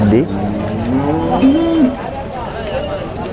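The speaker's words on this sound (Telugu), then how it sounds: "ఇది ఆవు అయితే మంచి భారీ ఆవు" A large cow at a Chintamani cattle market gives a loud, close moo with a rising, drawn-out call, set against a low din of the surrounding market.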